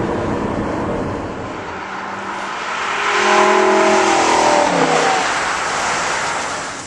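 A 2011 Lamborghini Gallardo LP570-4 Superleggera revs and accelerates, its engine note rising and swelling louder midway with a rough, harmonic roar, then easing slightly, heard alone without talk.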